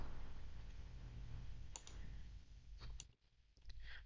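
Computer mouse clicks sound as a few sparse, short, crisp ticks over a steady low hum, spaced unevenly across a few seconds and heard close and fairly quiet.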